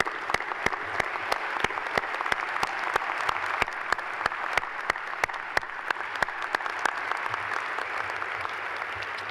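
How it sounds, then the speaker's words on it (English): Steady applause from a large audience at a university commencement, dense clapping that holds at an even level throughout with no talking. "One more round of applause."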